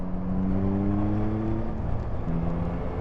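Yamaha XSR 900 with an 890cc inline triple, heard while riding, a steady droning engine note with a sustained harmonic hum and a brief shift in pitch partway through.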